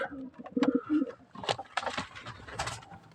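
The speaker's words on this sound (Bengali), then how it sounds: "এইখানে আর এক জোড়া মাক্সি কবুতর" Maxi pigeons in a loft cooing, two short throaty coo bursts close by, followed by scattered rustling and fluttering noises with no talking.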